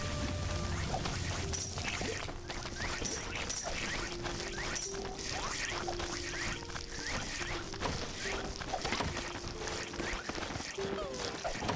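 Grinder machine in the rat colony game Ratopia runs with steady mechanical clicking and whirring, joined by game effects and a soft musical tone, under a speaking voice.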